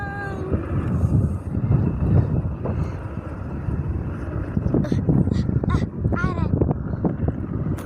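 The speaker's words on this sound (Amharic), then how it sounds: "ወይኔ ንፋስ ወሰደኝ ወደኋላ" Strong wind blows outdoors and buffets the microphone with a loud, continuous low roar and gusts, while a person's voice cries out over it.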